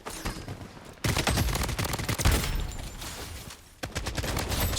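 Full-auto SKS assault rifle firing in the Blood Strike video game, loud sustained bursts of rapid gunfire with a brief drop in intensity before another burst resumes near the end.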